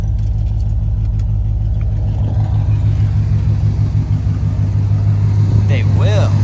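A 1986 GMC truck engine idles close by with a steady low rumble, while a person talks over it.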